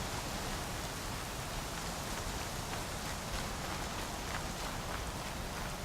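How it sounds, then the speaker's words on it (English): Steady rain falling in the video game Horizon Zero Dawn, a loud even hiss of drops on surfaces that continues without a break. "all of a sudden it started raining"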